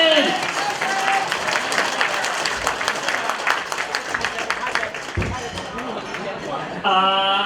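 An audience applauds steadily to welcome a speaker at a Taishan community fundraising party, a dense, sustained clapping that carries across the whole stretch and swells again near the end.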